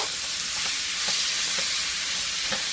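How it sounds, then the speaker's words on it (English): Onions stirred in a hot curry pan, a steady loud sizzle and hiss with soft periodic scraping strokes of the spoon, close and continuous with no voices. "just give it a good stir"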